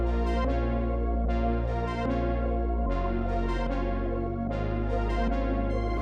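A simple electronic beat loops steadily with punchy drums, a recurring melodic accent phrase and a deep sustained bass line, loud and continuous with no voices.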